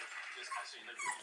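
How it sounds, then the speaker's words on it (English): A dog whines in high, wavering whimpers, close by and a little over a second long, with a person talking over it. "Look at that happy doggy."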